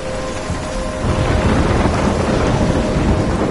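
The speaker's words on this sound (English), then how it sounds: "I'm trapped in a storm?" Thunderstorm with heavy rain in the game Life is Strange: steady rainfall hiss, then a deep rumble of thunder rolls in after a second and lingers loud beneath the downpour.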